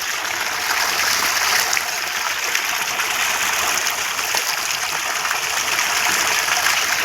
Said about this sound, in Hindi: तो यहाँ से भरते हैं पानी।